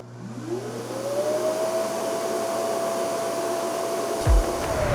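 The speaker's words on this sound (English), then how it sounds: "The base station is also pretty quiet too when it's cleaning." Dreame X50 robot vacuum base station running its cleaning cycle, a steady airy whir that rises in pitch and then holds, moderately quiet and alone, ending with a short low thump.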